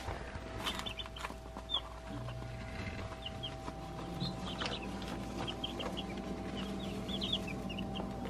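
Chickens cluck softly in a shed, with scattered short calls and chirps over a steady low hum, fairly quiet and continuous throughout.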